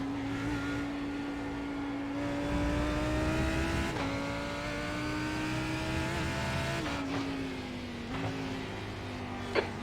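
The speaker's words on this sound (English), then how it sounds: "Faster cars approaching." IMSA GT3 race cars in a racing video game, a steady close engine drone rising in pitch with gear shifts, while faster cars approach and pass with sharp whooshes near the end.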